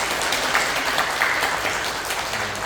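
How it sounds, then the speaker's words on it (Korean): A church congregation applauds during a Sunday worship service, producing steady, moderately loud clapping from many hands throughout, with no speech over it. "우리 유인혁 장로님하고 임순옥 권사님이신데 잠깐 일어서시면 따뜻하게 일단 박수를 하면"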